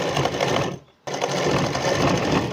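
A sewing machine runs topstitching along a suit hem, loud and close, in two continuous bursts separated by a short stop.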